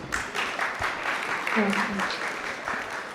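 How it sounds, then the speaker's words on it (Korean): Wedding guests clapping at a ceremony as a friend of the bride is called to the stage to sing, steady moderate applause with talk over it. "큰 박수와 함께 무대 청해 보겠습니다"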